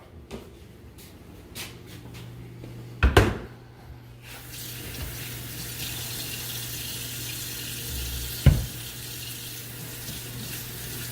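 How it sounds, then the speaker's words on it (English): A Graco Sanispray HP20 spray gun filter is washed under a running tap in a sink with warm soapy water, a steady water rush with a couple of sharp knocks. "twist and pull the filter off the bottom of the spray gun and wash it with warm soap and water"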